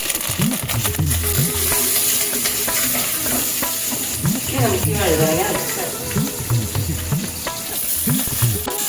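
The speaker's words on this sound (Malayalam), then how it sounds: "നെക്സ്റ്റ് ഇനി വറ്റൽ മുളക് അതിൻ്റെ കളറൊന്നും മാറട്ടെ" Dried red chillies and curry leaves sizzle steadily in hot oil for a Kerala saagu curry, a continuous close frying hiss with stirring clatter and someone speaking over it throughout.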